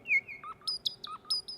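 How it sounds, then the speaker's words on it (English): Cubo AI baby monitor giving off a quick series of bright electronic chirps, several short tweets in a row, fairly close and clear over a quiet background. "What is that? I got a little chirping,"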